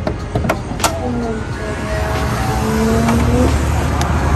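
The engine of a Volkswagen Golf GTI project car, still being rebuilt, idles with a steady, loud, close rumble that swells slightly toward the end.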